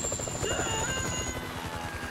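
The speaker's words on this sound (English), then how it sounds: "Can you hear that? Chopper, incoming." A helicopter in the video game GTA 5 thunders nearby with a fast, steady rotor chop and a loud turbine whine, holding constant throughout the short stretch.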